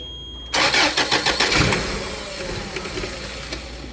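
A Toyota 7FGU32 forklift engine cranks and catches, then settles into a rough, uneven idle with a pulsing, mid-pitched running sound that wavers in loudness, heard up close with no speech.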